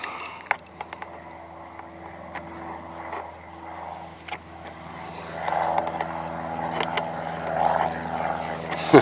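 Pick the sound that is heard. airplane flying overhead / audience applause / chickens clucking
airplane flying overhead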